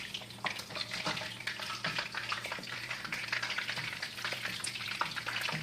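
Chicken pieces fry in a pan of hot oil, a continuous close crackling sizzle with scattered pops and faint stirring scrapes, steady throughout with no talking.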